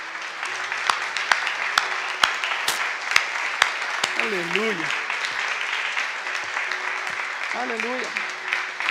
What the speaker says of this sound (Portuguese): Podemos dar un aplauso al Señor Jesucristo.